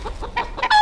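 Chickens on a farm where pigs are being trained to an electric fence give a few quick, close clucks and agitated squawks in a short burst.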